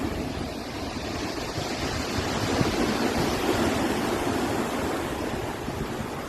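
Heavy ocean surf rolls in at a beach in Santa, Quezon, Ilocos Sur, a dense continuous roar of breaking waves that swells slightly toward the middle and stays loud throughout, with wind buffeting the microphone.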